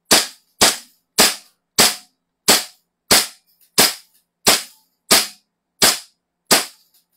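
Toy or airsoft gun firing eleven sharp, evenly spaced shots, loud and close with a quick decay after each crack and silence between.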